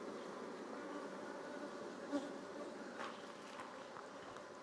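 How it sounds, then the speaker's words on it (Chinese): Honeybees buzz around roughly ten wooden hives in a remote mountain village, a faint, steady, continuous hum with no voices. "这蜜蜂。"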